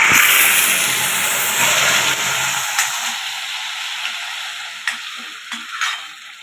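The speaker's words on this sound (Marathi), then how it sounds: "आता आपण ही कांदा आणि टोमॅटोची बनवलेली पेस्ट टाकून घेऊया" Onion and tomato paste poured into hot oil with cumin and mustard seeds, for ragda pattis, erupting in a loud hissing sizzle that gradually settles into quieter crackles and a few stirring clinks.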